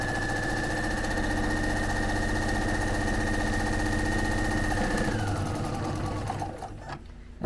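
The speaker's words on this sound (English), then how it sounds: "I have set my machine to 1/4 of an inch seam so that I can just stitch this 1/4 of an inch from the edge all the way around" A sewing machine stitches a quarter-inch seam around the edge of a chenille orange peel accent pillow, a steady close whirring drone that runs unbroken, then slows and winds down near the end.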